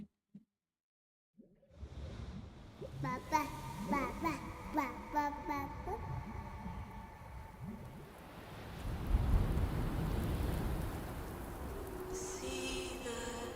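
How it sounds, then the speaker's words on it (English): Rain falls in the video game Death Stranding 2, a steady hiss of raindrops that swells and grows heavier midway, with rumbling low thunder-like noise and brief voices early on. "Raindrops are falling on my head."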